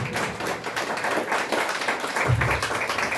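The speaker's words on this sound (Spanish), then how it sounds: "Denle una ofrenda de palmas" A church congregation claps hands together as an offering of applause during a lively worship service, dense continuous clapping filling the room with a low rumble beneath it.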